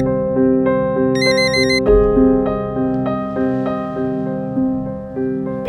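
A telephone rings loudly and close, a repeating electronic ringtone melody with steady tonal pulses, heard alone without talk.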